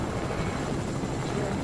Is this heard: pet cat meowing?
no